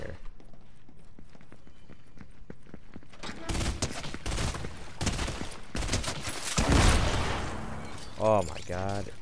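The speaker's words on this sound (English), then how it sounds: "Oh my god, he got a shot off." Gunshots in a battle royale video game: quiet scattered shots at first, then loud sharp bursts of gunfire packed together near the player, with a voice breaking in near the end.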